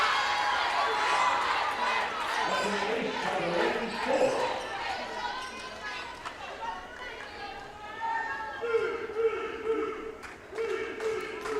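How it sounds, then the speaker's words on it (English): A volleyball crowd in a gym at a college match cheers after an ace serve, a sustained roar of voices and shouts with an announcer talking over it. "Dallas Baptist crowd getting into it now for Delaney Fuller."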